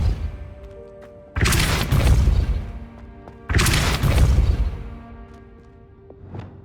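Two heavy magical spell impacts from a Harry Potter video game, each a loud booming burst with a whooshing smash that decays over about two seconds, followed by a faint short thud near the end.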